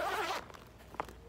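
A small zipper on a bag is drawn in one quick, close zip, followed by a faint short rustle in a quiet room.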